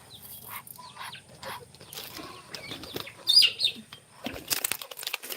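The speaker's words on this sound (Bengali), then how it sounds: "আমার কবুতরদের খাবার খাওয়াই" Pigeons flap their wings and bustle about while being fed, with soft flutters through most of the stretch, a louder burst of wingbeats near the middle and some chirping, at close range.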